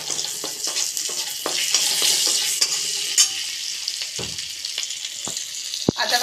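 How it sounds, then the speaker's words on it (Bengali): Cumin seeds and two bay leaves crackle in hot oil after dried chillies, a dense steady sizzle close up, punctuated by sharp clicks and utensil taps. "আর দেবো আমি জিরে ফোড়ন, দুটো তেজপাতা দিয়ে দিলাম"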